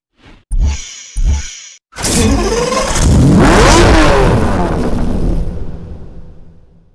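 A Lamborghini Diablo V12 in a Need for Speed racing game gives two short, loud revs, then a sustained roaring acceleration that swells and slowly fades as the car pulls away.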